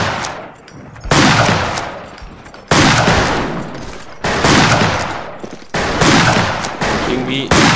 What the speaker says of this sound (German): dann wechsle ich jetzt direkt mal zur Schrotflinte